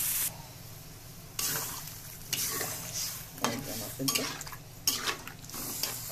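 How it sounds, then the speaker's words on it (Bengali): Water is poured into a pan of cauliflower, potato and egg curry, bringing on a steady loud sizzle with sharp bursts and spoon scrapes against the pan, close up and with no voices. "এখন আমি জল দিয়ে দেবো।"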